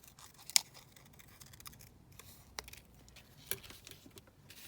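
Scissors cut through a 12 x 12 paper collage sheet in a few sparse, crisp snips with faint paper rustling between them, close by and quiet, with no talking.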